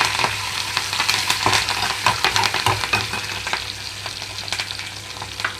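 Dried red chillies, green chillies and curry leaves fry in hot oil, giving a loud, close sizzle with crackling pops that spit unevenly and thin out toward the end.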